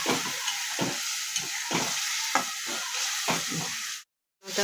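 Masala fries in a pan of oil, giving a loud, dense sizzle. A spoon scrapes and stirs about once a second, and the sound cuts out briefly near the end.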